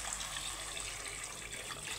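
Water poured into a simmering fish curry with potatoes, a soft continuous splashing pour, close but quiet and steady throughout, with no voices.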